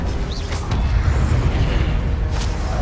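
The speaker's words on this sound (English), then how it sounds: "Incendio." An Incendio fire spell cast in Hogwarts Legacy gives a loud, sustained rumbling burst of flame with a deep low roar and brief bright flares, heard alone without talk.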